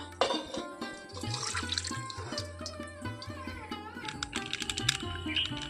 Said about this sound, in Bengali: এখন আমি জলটাকে একটা পাত্রে ঢেলে নেব